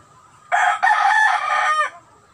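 A rooster crows once in a loud, close cock-a-doodle-doo lasting over a second, clear and alone against a quiet yard background where chickens are kept.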